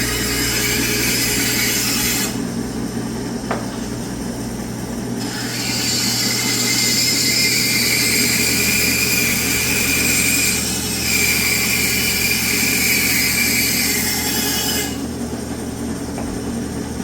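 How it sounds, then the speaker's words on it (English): A 1952 Craftsman bandsaw with a newly fitted blade runs steadily, giving a continuous motor hum and high blade whine that comes and goes in long stretches, close and alone. "Craftsman 1952 bandsaw."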